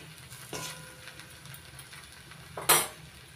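Garam masala being stirred into a banana flower curry in a pan, with two scraping spoon strokes against the pan, the second louder, over a faint background.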